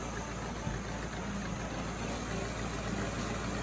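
A cold Jeep CJ5 engine with a Quadrajet carburetor idles on the choke, a steady, close, even mechanical hum and rumble that continues unchanged throughout with no talking.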